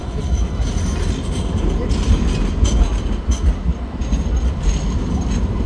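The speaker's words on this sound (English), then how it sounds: "it's fascinating watching these light rail go through the city" A city light rail tram rolls through the streets near a central station, a loud steady rumble with rattling wheel clatter and occasional sharp clicks, continuous for several seconds.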